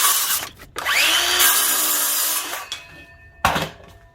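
Power saw cutting a small piece off a wooden board, a loud close whine biting through the wood for about two seconds, then the motor spinning down, followed by a short second burst.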